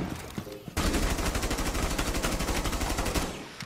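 Rapid automatic gunfire from the video game Rainbow Six Siege rattles in a loud, continuous burst lasting about three seconds after a brief quieter lead-in.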